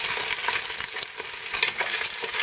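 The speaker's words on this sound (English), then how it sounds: "Now this will take a few minutes to saute." Beef pieces sautéing in a soup pot, a dense continuous sizzle with light stirring clatter close by and no voices.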